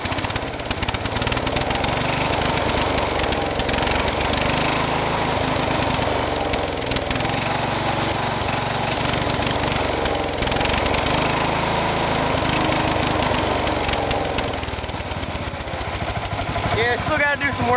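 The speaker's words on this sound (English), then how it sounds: "My old man says this tractor's kind of loud compared to my other one." A 140 tractor with a Walbro carburetor and a small muffler runs loudly and continuously at a steady idle, a dense, rough mechanical drone that stays close and constant throughout, with no talk audible over it.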